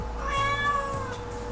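A pet cat meows in one drawn-out, clear cry that bends slightly in pitch, close and prominent over a steady low background hum, with no one speaking.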